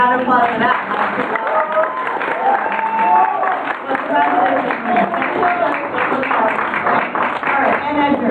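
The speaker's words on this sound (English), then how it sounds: "let's a round of applause for that" An audience at a student games awards ceremony applauds steadily throughout, with voices talking and calling out over the clapping.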